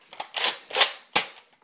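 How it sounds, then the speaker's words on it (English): Three sharp spring-air shots from a Nerf N-Strike Elite Alpha Trooper CS-12 blaster, fired quickly one after another at close range with no voices over them. "you can shoot it fast like that"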